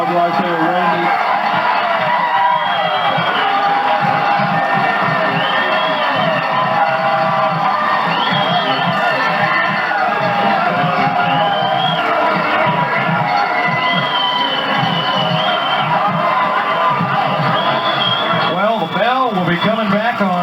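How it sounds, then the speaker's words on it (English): Loud, continuous crowd noise from a 1992 high school football game's closing moments, cheering, whooping and shouting from a packed stadium with kids' voices mixed in, sustained throughout with no commentary over it. "We just let the folks listen to the crowd right there, Randy."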